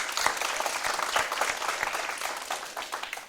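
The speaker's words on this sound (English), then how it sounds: "Please give our judges a round of applause." Audience applause for the judging panel at a school debate encounter, with many hands clapping in a dense, steady wash that holds for a few seconds before starting to thin out, heard from within the hall.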